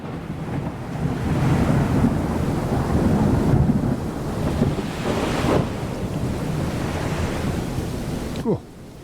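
Storm at sea during a sailing crossing toward Amsterdam, with a steady roar of wind and crashing waves throughout and low rumbles of thunder, building louder in places, with no talking.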